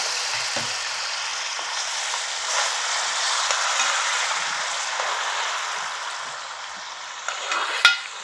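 Onion paste frying in a pan for chole masala gives a steady, close, hissing sizzle throughout, with a few faint utensil clinks and a sharper knock near the end.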